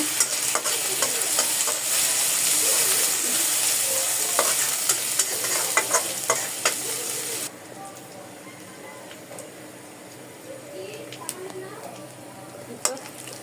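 Onions frying in a pan with steady sizzling and repeated clinks and scrapes of a spoon stirring them, the sizzle dropping sharply halfway while the stirring knocks go on.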